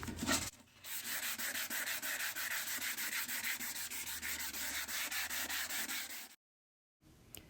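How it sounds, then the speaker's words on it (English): Hand sanding an IKEA Kallax shelf unit, a steady close, loud scratchy rasp of rapid back-and-forth strokes that runs for several seconds and then cuts off abruptly. "Put this on and start sanding away."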